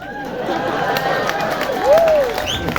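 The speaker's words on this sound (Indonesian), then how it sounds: "oh benar ada tepuk tangan" Applause and crowd chatter from an audience at a Balinese comedy performance, with scattered claps, a bright pitched whistle-like tone rising and falling, and voices mixed in.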